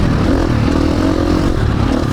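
A KTM 350 dirt bike engine roars steadily while riding through deep dune sand, a loud, close, continuous drone with no talk.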